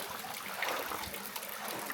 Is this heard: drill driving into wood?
no